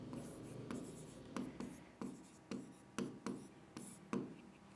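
Pen on paper as an answer is written out by hand, a series of short scratchy strokes in an even rhythm, close and fairly quiet, with no talking.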